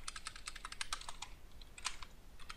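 Rapid clicking keystrokes on a computer keyboard during live programming, in uneven bursts with brief pauses, close and fairly quiet.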